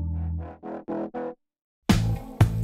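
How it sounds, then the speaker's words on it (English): A chopped, vibrato-laden synth line with Decapitator distortion and volume automation plays as five short, clipped stabs, then a gap of silence before two louder, harsher distorted bursts, with no talking. "More distortion coming from decapitator and automation on the volume,"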